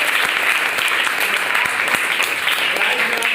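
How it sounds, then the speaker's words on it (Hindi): Loud, steady applause fills a school prize-giving event, dense clapping from a large audience throughout, with a few sharper individual claps standing out. "जोरदार ताली से आप लोगों का स्वागत"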